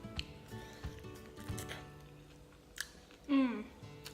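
Crunchy chewing of fried tofu close to the mouth, a few crisp bites and squishy chews with faint background noise and a brief louder crunch near the end.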